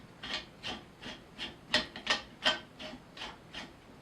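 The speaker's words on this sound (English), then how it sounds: "This piece goes here, goes through the hole, and gets threaded onto the other side." Camera gantry part being threaded through a hole by hand, a steady series of about ten close, soft scraping rubs in an even rhythm, with no voices.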